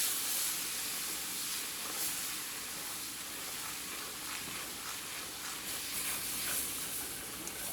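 Beef broth is poured a little at a time into a simmering pan of smothered oxtails and stirred, giving a steady broadband hiss and sizzle of steam with faint scraping throughout, no voices.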